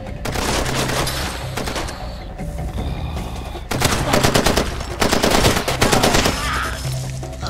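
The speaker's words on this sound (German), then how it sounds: "Ich werd beschossen." Sustained automatic gunfire aimed at the player in the video game Far Cry 2, with dense rapid bursts and loud volleys that swell and ease over several seconds, backed by a steady ambient drone.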